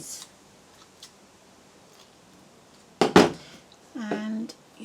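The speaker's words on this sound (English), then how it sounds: "Get my scissors" Scissors snip through paper while a card is being made, a sharp crunching cut near the middle, close and fairly loud, followed by a short voiced sound, with quiet faint ticks elsewhere.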